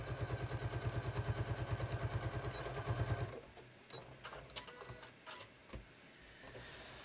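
Sewing machine stitching fabric for a hem on shorts, a steady fast rhythmic mechanical chatter for about three seconds, close and loud, then stopping, followed by quieter handling clicks and rustling.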